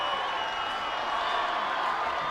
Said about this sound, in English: the Saints crowd celebrates over on the far sideline